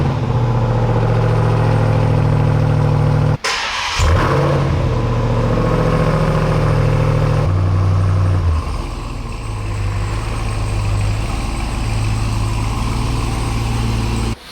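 A Ford Mustang Dark Horse V8 running in standard exhaust mode, a steady close engine drone that dips briefly, then settles into a lower, even idle.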